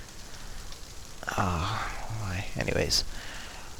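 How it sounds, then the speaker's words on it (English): Rain falling in the FSX flight simulator during preflight of an A2A Comanche, a steady soft hiss throughout with someone talking over it. "Oh, the rain is coming down again."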